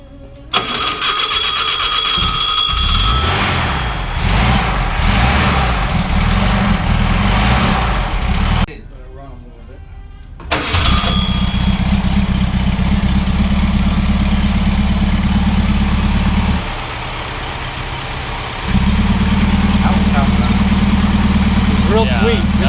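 Dual-port 1600cc air-cooled VW engine, originally from a bay window bus, cranks and runs with a loud, throbbing idle and chugging low rumble, briefly cutting out before restarting; voices talk over it at times.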